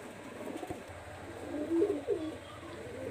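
Pakistani high-flyer pigeons coo in a few soft, low phrases close by, with a quiet steady background hum and no talking.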